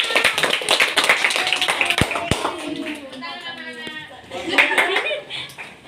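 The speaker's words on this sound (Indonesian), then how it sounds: "Beri aplaus untuk kelompok pisang." Classroom group applauding a student presentation, a burst of clapping and laughter mixed with chatter, fading and then swelling again near the end.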